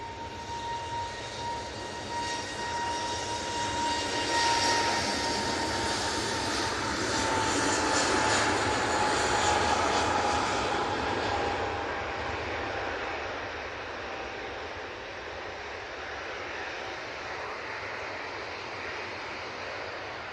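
An EasyJet airliner roars down the runway and climbs away from Manchester Airport, a loud, sustained jet rumble with a whining engine tone that slowly fades as it departs.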